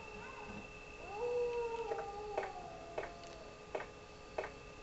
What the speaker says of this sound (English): Now here I am outside with dogs barking.